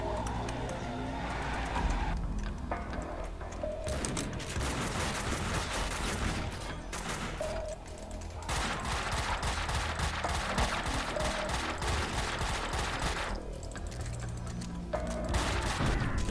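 Shootout at a police station in Max Payne 2, dense bursts of rapid gunfire and fusillades rolling on and off for long stretches with brief lulls, mixed with game effects and a voice talking over it.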